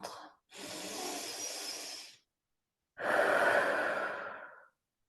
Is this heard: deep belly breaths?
yes